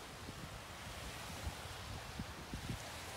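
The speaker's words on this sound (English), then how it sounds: "now, this is the Indian Ocean" Indian Ocean surf washes onto a sandy shore as a steady broadband roar. Wind buffets the microphone with low thumps, and there is no talking.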